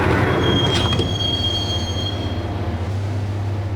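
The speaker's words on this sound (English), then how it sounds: "the train doors had already shut behind me, and I was in for the ride" A train rolls along in the Max Payne game, heading for Roscoe Street Station, its wheels letting out a high, sustained squeal over a heavy low rumble of rail cars, with no voices.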